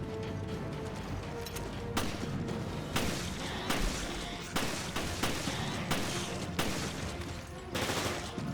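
Sharp single pistol shots from a government-issue handgun ring out in a survival horror game, fired one at a time at irregular intervals about a second apart, close and loud over a murky ambient backdrop.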